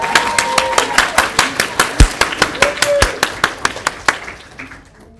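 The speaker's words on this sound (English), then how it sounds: "Let's get a round of applause for the team." Sharp, evenly spaced claps for a team ring out at a steady quick rhythm, loud and close, with a faint tone or two underneath before they taper off at the end.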